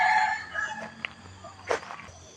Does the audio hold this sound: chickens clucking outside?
yes